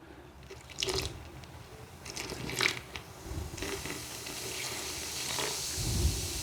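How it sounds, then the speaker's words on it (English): Vinegar pours down a bathroom basin drain onto baking powder, giving faint splashes and trickles followed by a soft fizzing hiss, quiet and close. "then I pour some vinegar down"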